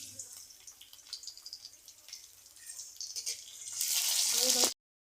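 Chopped garlic and cumin seeds dropped into hot white oil, giving soft crackles and drips that swell into a loud, steady sizzle near the end before cutting off abruptly.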